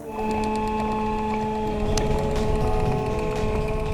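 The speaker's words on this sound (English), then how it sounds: "this is the power pack for the hauler. It's a very familiar hydraulic pump that works the Spencer Carter hydraulic system" Electric-motor-driven hydraulic pump power pack running the Spencer Carter hauler system on an all-electric lobster fishing boat, giving a steady, continuous mechanical hum and whine close by, with no speech.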